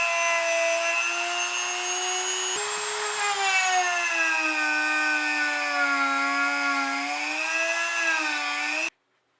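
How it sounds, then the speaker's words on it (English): A Dremel grinds a thin layer off the sides of rim brake pads meant for carbon wheels. The high, whining motor tone is loud and close, wavers steadily in pitch for about nine seconds, then stops abruptly. "remove a thin layer on the sides of the pads with my dremel"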